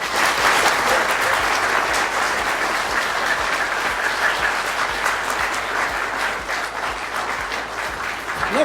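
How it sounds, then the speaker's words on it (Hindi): A hall audience at a literature festival claps in sustained, loud, dense applause that stays steady from start to finish. "ऐसे ताली बजानी है ना कि ये जो बिल्डिंग है ना ये लरस जाए। चले बजाए ताली भी।"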